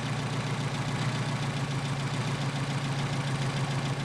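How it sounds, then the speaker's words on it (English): A Mercedes 190SL engine with Solex PHH44 carburetors idles steadily up close while the carburetors are adjusted, giving an even, continuous low rumble with no voices. "There's our idle dropping off."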